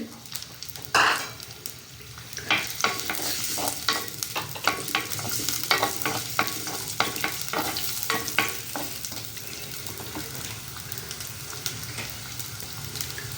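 Onions hitting hot oil for a cauliflower fry, a steady close sizzle with sharp crackles and intermittent stirring scrapes running throughout, with no voices.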